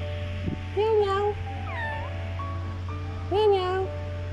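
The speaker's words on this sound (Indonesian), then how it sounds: "Meow, meow." A cat meows twice, with a shorter mewing call between them, close and clear over a constant low electrical hum.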